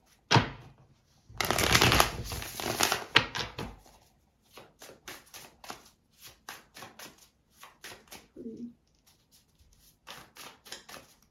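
Wild Unknown Tarot cards are shuffled close up: a brief snap, then a dense riffle lasting a couple of seconds, followed by a string of soft rhythmic taps and slides as the deck is squared and cut, with no talking.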